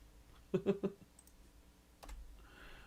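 A short burst of three quick keyboard keystrokes close by, followed by a single louder click and a soft rustle, in an otherwise quiet room with no talking.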